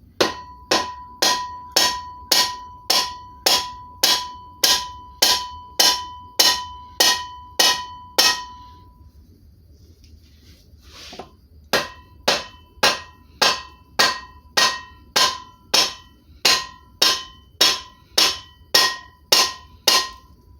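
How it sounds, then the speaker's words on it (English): A rubber mallet strikes an original Kohler KT17 lawn tractor muffler in steady, evenly spaced blows, each ringing sharply, then a brief pause before the rhythmic hammering resumes, loud and close. "I don't know if the rubber mallet will do it."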